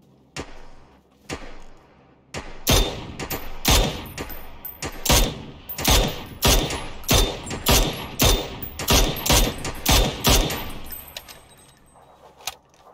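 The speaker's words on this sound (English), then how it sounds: "That's probably enough gunfire to draw this guy out." Rapid, sharp gunshots from the video game PUBG crack in uneven bursts, loud and close, continuing for several seconds before thinning out to a few scattered shots.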